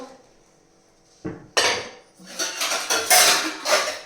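Metal cooking pots, including a flat-bottomed aluminium milk pan and a heavy tri-ply pan, are set down on an electric stove, giving a couple of sharp clanks followed by a run of scraping, clattering metal contact up close.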